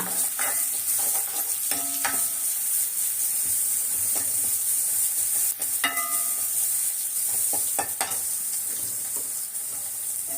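Mustard seeds, dried chillies and garlic crackle and sizzle steadily in hot oil, with occasional sharp pops and stirring scrapes, close and continuous.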